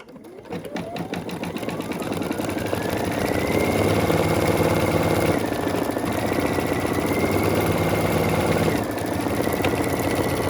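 A Brother Essence VM5200 embroidery machine spins up and stitches a Merry Christmas design onto a tea towel, settling into a loud, fast, steady mechanical chatter with a whirring motor that dips briefly now and then.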